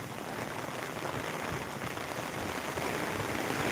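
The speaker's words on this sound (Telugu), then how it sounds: "వర్షం కొడుతుంది నేను తడుతున్నా" Heavy rain pours down in a steady, dense hiss of drops hitting surfaces, close and continuous, slightly louder toward the end, with no voices over it.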